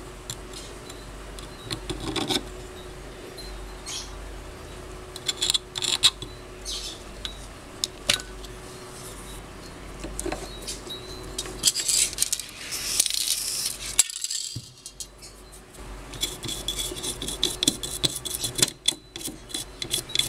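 A chisel scrapes the remains of an old bushing out of the aluminium seat of a 16-inch Hatari fan motor, making a long run of close, gritty rasping strokes with brief metallic clicks and no talking.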